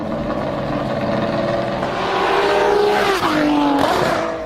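Ferrari 599XX super sports car engine, loud and steady with rising revs, a sharp pitch drop near the end like a gear change or the car passing close.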